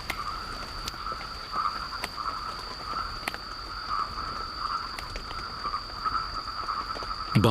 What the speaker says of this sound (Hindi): बारिश की बूंदों के स्पर्श ने इस पर्पल फ्रॉग को सक्रिय कर दिया है।